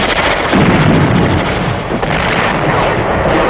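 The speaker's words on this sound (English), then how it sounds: "The incoming artillery fire, rockets, and mortars of the enemy continue to pound the garrison." Enemy artillery fire, rockets and mortars pound the Khe Sanh garrison, a loud continuous rumble of overlapping booms and blasts with no voices.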